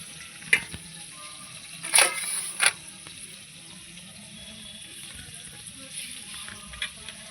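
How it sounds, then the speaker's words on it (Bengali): Potatoes frying with salt in a pan, a soft continuous sizzle under a few sharp clinks and scrapes of a spatula. "লবণটা দিয়ে আমি একটু ভালো করে ভেজে নেব আলুটা ভাজা হতে থাক"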